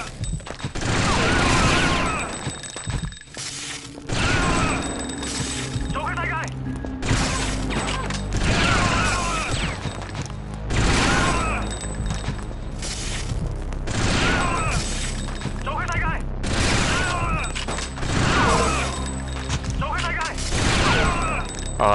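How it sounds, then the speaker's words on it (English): Assault rifle shootout in the game Fear Effect, with bursts of rapid automatic fire, booms and crashes repeating in waves across a long stretch, and someone talking over much of the action. "You have to use the assault rifle and take these guys out."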